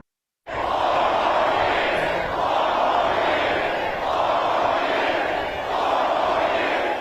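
A massive, enthusiastic crowd at an outdoor presidential rally for President Trump in Waterford Township, on a chilly, windy day, roars and cheers continuously in loud, sustained waves.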